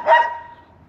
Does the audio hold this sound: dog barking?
yes